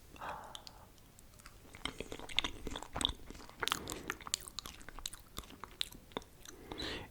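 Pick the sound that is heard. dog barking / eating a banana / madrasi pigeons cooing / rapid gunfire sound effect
eating a banana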